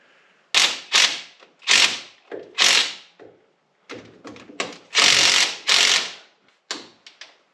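A ratchet loosens the CVT clutch cover bolts on a Polaris General in loud, close bursts of clicking. Each burst lasts about a second, with short pauses between strokes.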